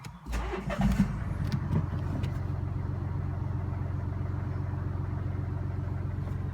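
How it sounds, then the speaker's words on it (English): A Mini Cooper engine cranks and catches in the first second, then settles into a steady, close idle with a low rhythmic rumble. "you can start the car to check if everything is fine."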